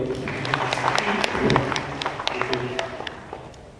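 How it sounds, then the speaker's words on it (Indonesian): Scattered hand claps from parents in an elementary school gathering at SD Birul Walidain Sragen, sharp irregular claps rising and then thinning out, mixed with a voice talking over them. "Tepuk tangan Bapak Ibu"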